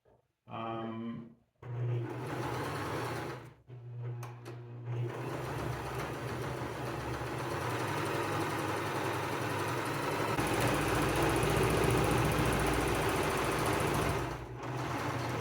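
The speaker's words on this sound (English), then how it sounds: "I love operating sewing machines" Sewing machine stitching a cosplay wizard hat, starting and stopping in short bursts before a long, steady whirring run up close, with no talking.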